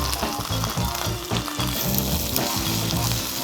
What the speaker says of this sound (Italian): L'aglio sta sfrigolando, quindi posso aggiungere le mie biete